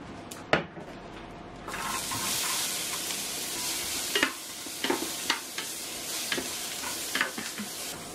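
Low-fat chicken breast sausage fries in olive oil: a quiet start, then a steady close sizzle that swells suddenly, with several sharp scraping stir strokes and clatters of the spatula against the pan, and no talking.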